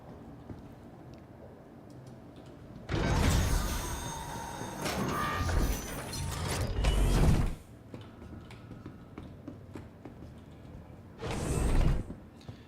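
A mechanical ramp on the Corsair ship in a steampunk-styled video game, two loud grinding, whooshing movement passages of several seconds each, separated by quieter ambient hum, followed by a shorter burst.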